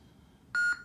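A single short electronic beep from a Sabertrio Neo Vahlken lightsaber hilt as it switches sound fonts, clear and close against near silence.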